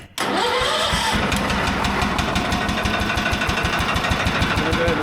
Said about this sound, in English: So I'm going to go ahead and start the tractor.